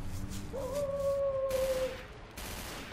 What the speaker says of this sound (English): They're still shooting though.